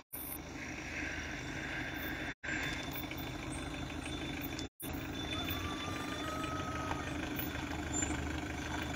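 Car and motorcycle engines idling at a Royal Gendarmerie police checkpoint near Benslimane, Morocco, giving a steady low rumble that continues with only brief drops.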